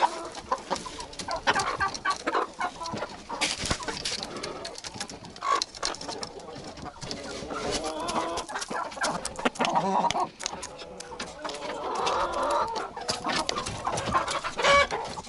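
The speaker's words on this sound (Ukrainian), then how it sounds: "Ось так, кури мої полюбляють овес." Chickens cluck steadily while being fed oats in a farmyard, with several hens calling at once. Their dense, overlapping clucks and squawks carry close and fairly loud through the whole stretch, with no talking.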